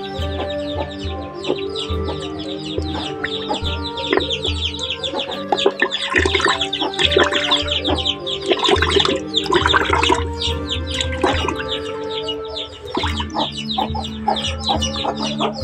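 Quail on a small poultry farm keep up a dense, continuous chorus of clucks, chirps and calls, loud and close throughout, with no talking.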